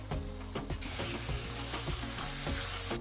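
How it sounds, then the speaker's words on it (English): Squid frying in vegetable oil with onion, ginger paste and crushed garlic makes a loud, dense sizzle, punctuated by repeated scraping and clattering strokes of a utensil against the pan, with no one speaking. "first I saute an onion in vegetable oil. Then I add a teaspoon of ginger paste, 2 crushed garlic cloves, the squids"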